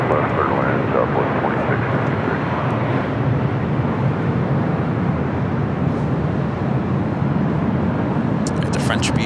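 A Southwest Airlines jet roars loudly on approach and landing on runway 6 left at LAX, a continuous broad engine rumble that holds steady throughout, with voices talking over it.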